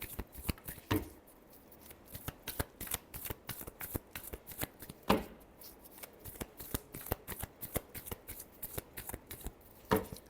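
Tarot cards being shuffled by hand, a close, rapid run of crisp riffling clicks and flicks that carries on steadily, with a few sharper snaps standing out.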